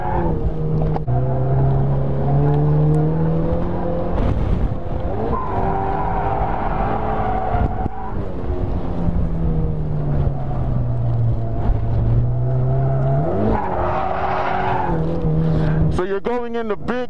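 A car drifting with heavy counter-steer, its engine revving and tires squealing in long skids, loud and close throughout, with rising and falling pitch as the slides shift.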